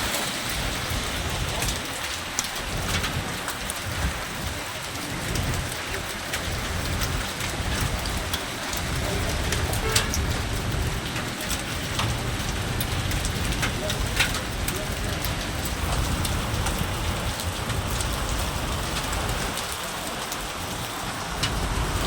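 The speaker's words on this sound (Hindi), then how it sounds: "उदयपुर के अंदर शानदार मानसून ओलों के साथ ओले पड़ते हुए" Heavy monsoon rain with hail pours down in Udaipur as a dense, continuous hiss and patter. Scattered sharper hits sound through the steady roar, with a voice faintly present underneath.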